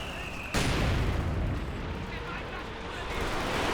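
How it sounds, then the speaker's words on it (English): Werfer rocket artillery barrage in Company of Heroes 2, a sudden loud blast followed by a rolling roar of explosions that fades slightly and swells again, with talk underneath. "Comes another Werfer barrage."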